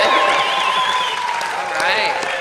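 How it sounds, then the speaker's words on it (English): Audience cheering and whooping at a university commencement ceremony, a steady loud crowd roar with high shouts rising over it, continuous for a couple of seconds. "So how about the audience? Can you cheer for me?"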